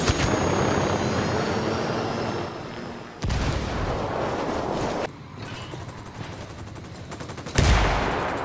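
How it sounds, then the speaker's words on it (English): Apache attack helicopter firing in the Ghost Recon Wildlands video game, loud dense bursts of gunfire and explosions over rotor noise, with abrupt cuts between intense barrages. "That Apache's gonna cut loose."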